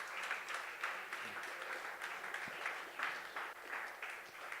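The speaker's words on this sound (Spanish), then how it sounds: "Damos fuertes palmas al nombre del Señor." Church congregation clapping strongly in praise, a dense, steady wash of applause from many hands that carries on without a break.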